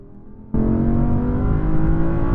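Audi R8 generations launch in a drag race, engines jumping from a steady idle to a loud, sustained full-throttle roar, close by and with no talking.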